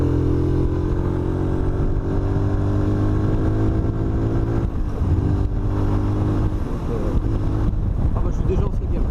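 A Keeway RKV 125cc air-cooled four-stroke single-cylinder motorcycle engine drones steadily while riding in fifth gear, a close, continuous hum with strong harmonics and wind rush, its pitch easing slightly midway.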